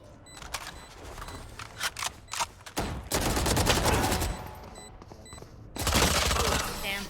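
Bursts of gunfire from the Valorant video game come in quick clusters, rising into loud sustained volleys with bright cracking shots and tinny clicks, under faint voice chat.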